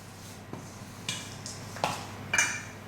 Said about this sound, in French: Donc, vous mélangez comme ceci.